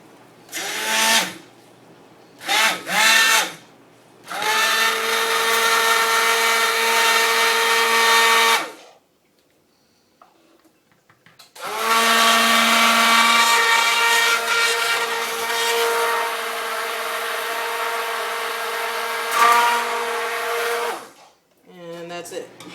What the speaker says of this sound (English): Burp the stick blender, get all those bubbles out.